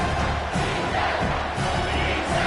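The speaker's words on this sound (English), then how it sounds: "Here comes this home crowd as the defense tries to get off the field on 3rd down." A home crowd at a college football game roars steadily and loudly as the defense tries to get off the field on third down, a dense continuous wall of cheering and yelling.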